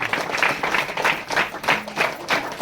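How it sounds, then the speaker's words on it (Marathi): Wedding guests at a church wedding in Khandbara clap together in rhythmic, pulsing bursts as garlands are exchanged between bride and groom, a fairly close crowd with faint voices underneath. "त्या समय टाळी पाडू"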